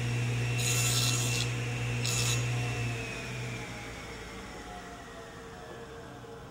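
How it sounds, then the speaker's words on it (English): A table saw trims a tenon on a wood workpiece, taking only a light cut: a steady close whine with a low hum, a couple of brief rasping bursts of blade contact, then the motor tone fading as it winds down. "You can hear just from the saw that it's not taking very much off"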